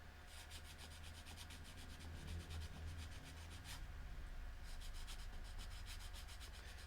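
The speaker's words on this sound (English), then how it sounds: "I'm sure some people watching this could be cringing at me sanding these contacts this way" Corroded contacts on an N64 game cartridge are sanded with steady, close scratchy rubbing strokes that continue throughout at a faint level.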